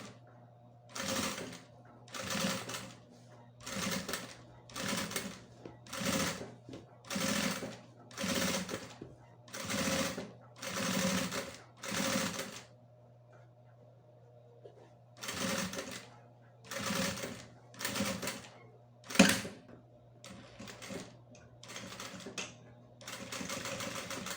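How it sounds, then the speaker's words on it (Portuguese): A sewing machine stitching a crossbody bag runs in repeated short bursts of rapid mechanical clatter with brief pauses between them, close and clear over a low steady hum. "onde tem aquele vãozinho e vou costurar. Vai sentindo vivo aqui, ó. E vai costurando."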